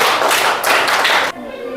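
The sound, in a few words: applause, clapping for a student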